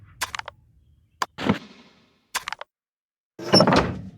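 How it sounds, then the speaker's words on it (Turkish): In a video game, a door makes a series of separate clunks and thuds. Short sharp knocks come between heavier rumbling bangs, with near-silent gaps between them. "Kapı."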